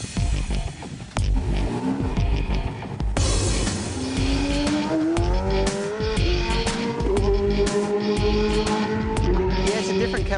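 Shannons Racing V8 Supercar driven on a race track, engine note climbing through gears with downshifts and tire noise, fairly loud, with some voices in the background.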